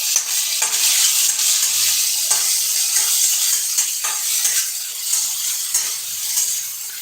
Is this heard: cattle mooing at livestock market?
no